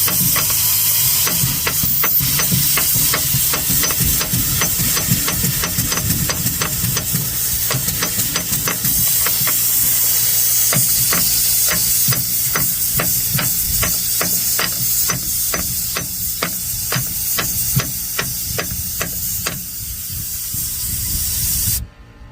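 Compressed air hisses steadily past the worn seals of a Bendix unloader valve on an International 4300 truck's air compressor, while a hammer taps it in repeated sharp strikes close by, the leak loud and continuous throughout.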